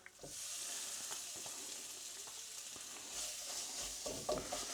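Balti curry paste frying in a pan, a continuous bright sizzle broken by spoon stirs and scrapes, close and fairly quiet, no voices.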